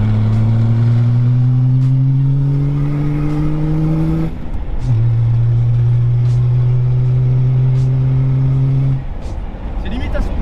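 A BMW 5 Series E34 525tds with a turbodiesel engine drives along as a steady engine drone rises in pitch through the gears, with a brief drop between shifts and occasional talk underneath.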